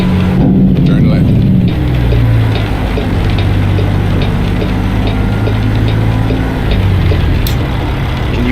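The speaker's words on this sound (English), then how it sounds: "Can you guys hear the truck okay," A truck engine idles in American Truck Simulator, a steady low rumble filling the whole stretch, with some voice audible in the background.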